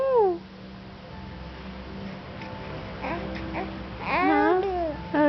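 Baby boy babbling in his crib at bedtime, several short voiced coos and squeals in the middle and a louder rising-falling run of vocalizing near the end, close and fairly clear over a steady low hum.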